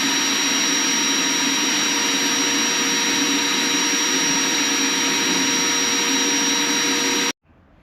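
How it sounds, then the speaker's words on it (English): A sandblaster roars continuously as it blasts a motorcycle phone mount for a Triumph Rocket 3 GT, a loud, steady hiss of air and grit that cuts off abruptly near the end. "So off to the sandblaster, blast it and paint it."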